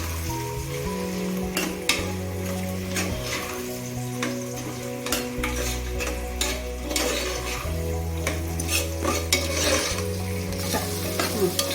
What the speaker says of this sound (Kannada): ಈ ಥರ ಚೆನ್ನಾಗಿ ಫ್ರೈ ಮಾಡ್ಕೋಬೇಕು.